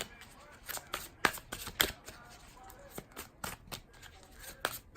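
Oracle card deck being shuffled by hand, with crisp riffling bursts and soft slaps repeating at close range, fairly quiet throughout.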